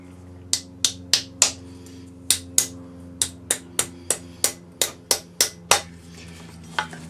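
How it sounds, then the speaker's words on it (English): Rawhide hammer tapping a folded metal leaf with a stem on a ring mandrel, about fifteen sharp, evenly spaced taps close up over a steady low background hum, with no talking. "Use the rawhide hammer and open it the rest of the way."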